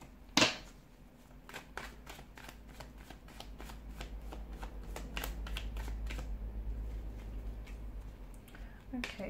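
Tarot cards are shuffled by hand in a quiet room, a rapid run of crisp riffling clicks and flicks that builds into a dense, continuous shuffle with a sharp tap at the start.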